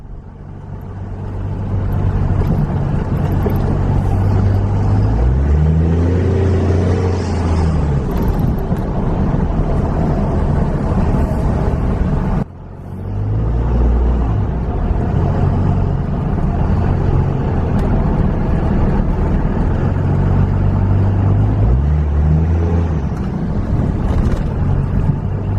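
A 2001 Dodge Cummins diesel truck on the road, with a steady loud engine and road rumble throughout, rising and falling with gear shifts and a brief dip midway, no talking.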